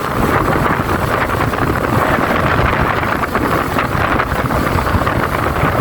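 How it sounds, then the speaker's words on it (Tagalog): Strong coastal wind buffets a microphone in a seaside fishing village, producing a loud, constant rumbling roar that fills the whole stretch with no clear voices over it. "kung baka hindi nyo ako masyado marinig kasi yung hangin medyo lumalakas"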